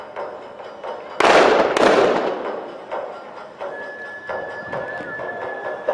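Cannon fire from sailing ships in a naval battle reenactment at Navy Days: two heavy booming shots close together near the start, followed by rolling echo and lighter distant thuds over outdoor crowd ambience.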